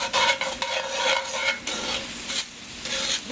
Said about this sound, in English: we want to caramelize them onions up real good